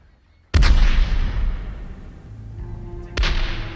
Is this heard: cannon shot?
yes